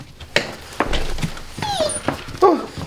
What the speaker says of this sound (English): I haven't seen little puppies like this since the farm years ago